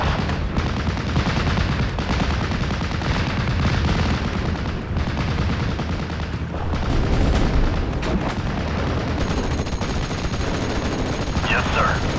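Battle gunfire in a WWII game erupts as continuous machine-gun bursts and rifle shots, mixed with heavy booms and artillery, loud and dense throughout with faint shouting voices underneath.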